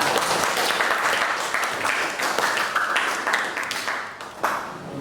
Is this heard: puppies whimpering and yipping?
no